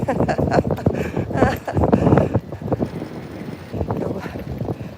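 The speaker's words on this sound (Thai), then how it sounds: "ปั่นจักรยานลมแรง" Strong, gusty wind roars and buffets the microphone while riding a bicycle outdoors at five in the morning, with loud uneven bursts that ease off toward the end.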